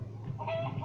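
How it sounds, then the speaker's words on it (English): A chicken clucks in Minecraft: Story Mode, a short burst of clucks over a low steady hum. "Chicken!"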